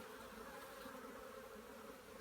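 Honeybees buzz at an open hive during an inspection, a steady dense hum from many insects, close but faint, with no voices.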